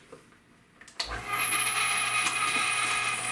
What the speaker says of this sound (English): got the grinder loaded up with my cubed meat with the spices and eggs and the bacon all ready to go. I'm gonna grind this up